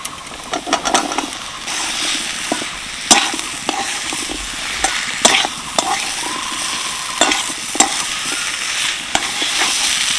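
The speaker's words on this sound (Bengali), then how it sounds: "এবার আমি ভেজে রাখা সজনে ডাঁটা আলু দিয়ে দেবো" Drumstick pieces and pre-fried potatoes are stir-fried in mustard paste with ginger, a steady close sizzle broken by repeated scraping strokes of a spatula against the pan, with no talking.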